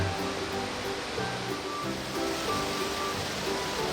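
Spring mountain stream flowing on Seoraksan, a steady broadband rush of water running continuously and fairly close, with no voices over it.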